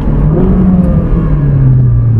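A Ferrari 458 Speciale, the naturally aspirated track version of the supercar, accelerates while being driven, its engine a loud steady rising drone heard from inside the car.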